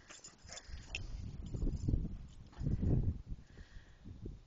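A dog plays fetch with a stick outdoors, making low thumping and rustling sounds as it moves about close by. The sounds come in uneven surges, and no one talks over them.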